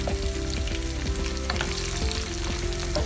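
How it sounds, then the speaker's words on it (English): Tomatoes go into a hot pan for a Mauritian dhal pita soup and fry with a steady, loud sizzle. Scraping stir strokes from a utensil sound close up throughout, with no one talking. "So in go the tomatoes now."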